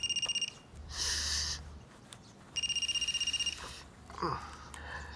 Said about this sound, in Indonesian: Itu ada telepon.